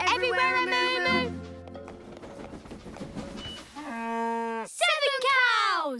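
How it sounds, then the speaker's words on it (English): Cartoon cows in a children's animated train show give drawn-out, tonal moos, several in succession, mixed with voices and a short burst of bright children's chatter near the end. "And 6 cows! Here a moo, there a moo, everywhere a moo-moo"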